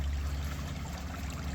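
Steady running water of a small creek at low summer flow, a close, continuous rushing and trickling wash with no talk over it.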